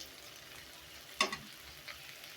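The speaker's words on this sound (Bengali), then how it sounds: "আবার একটু সময় নিয়ে ভাজতে হবে, কারণ গুঁড়াটা হলো একটু ভাজা ভাজা না হলে ভালো লাগে না।" Ground dal powder dry-frying in a pan in a village kitchen, a faint, steady sizzle with a brief sharp scrape of stirring in the middle.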